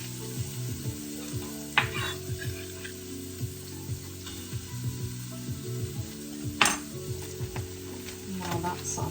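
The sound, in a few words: sautéing in olive oil and butter in pan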